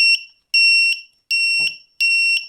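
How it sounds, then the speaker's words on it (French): A bicycle turn signal kit's buzzer sounds four sharp, loud beeps, evenly spaced about three-quarters of a second apart, with silence between them. "Et de l'autre côté, j'ai mis le buzzer."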